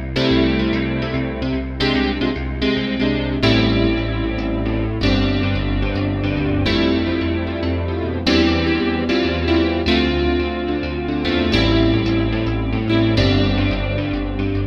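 Crumar Seven stage keyboard played through effects, with chorus, distortion and echo coloring a continuous chordal passage; loud, dense and sustained with steady rhythmic attacks throughout, no voices.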